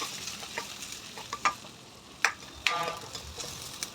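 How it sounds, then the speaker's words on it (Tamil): Onion, green chilli, garlic and tamarind sauté in about two spoons of hot oil, giving a steady close sizzle broken by a few sharp stirring scrapes and clicks against the pan, with no voices. "நல்லா வதக்கணும்."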